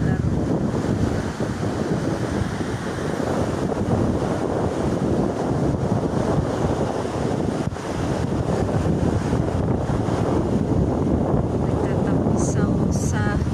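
Sea waves wash continuously against the shore of a bay, with heavy wind buffeting the microphone throughout.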